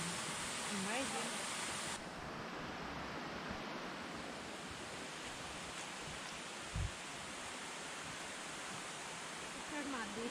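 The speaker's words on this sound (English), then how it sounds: "Called the meeting of the waters. Oh, that's beautiful. It sounds good, eh? Three creeks come together." Rushing water where three creeks converge at the Meeting of the Waters in Springbrook, Queensland: a steady, broadband roar of flowing streams holding constant throughout, with a brief thump partway through.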